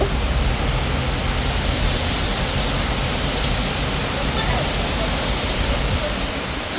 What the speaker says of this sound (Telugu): వర్షం పడుతుంది రాయే